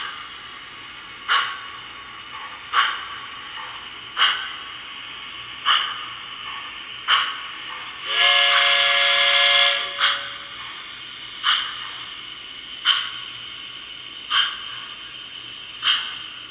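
A small steam locomotive puffs past in a steady rhythm of sharp chuffs, and a bright whistle blows for about two seconds partway through.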